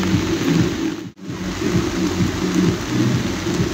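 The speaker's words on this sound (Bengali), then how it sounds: "আসলে এত জোরে বৃষ্টি হচ্ছে" Heavy rain pours steadily in Gangtok, a dense, constant wash of close downpour with a low rumbling undertone of thunder, briefly cut by a sudden drop near the middle before resuming.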